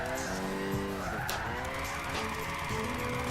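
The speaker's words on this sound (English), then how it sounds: "Wow, this car drifts." A car drifting in Gran Turismo 6 squeals its tires in long wavering howls over a steady engine drone, loud and close for a few seconds.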